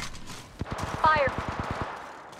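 A rapid burst of automatic gunfire from a video game sounds, about a dozen evenly spaced shots in quick succession over a faint background.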